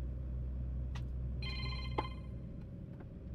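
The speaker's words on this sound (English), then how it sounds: "Oh, my phone is ringing." A phone ringtone chirps out in a short run of bright tones inside the cab of a heavy-haul truck rolling downhill at speed, sitting over a constant low engine and road rumble.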